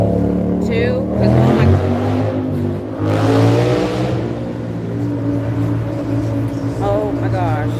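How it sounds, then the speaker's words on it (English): A car with a loud muffler revs nearby on a city street in Austin, its engine roar rising and swelling for several seconds against steady traffic noise. "That was just a loud muffler."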